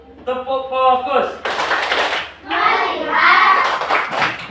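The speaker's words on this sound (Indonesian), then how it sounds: "Tepuk fokus dulu. Tepuk fokus." Rhythmic classroom focus clapping (tepuk fokus) during a primary school maths lesson, with a group of children clapping sharp bursts between stretches of loud voices chanting and talking.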